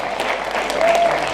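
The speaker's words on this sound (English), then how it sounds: "let's give a big round of applause" Applause from an audience at a science program launch, steady dense clapping lasting briefly, with a faint voice under it.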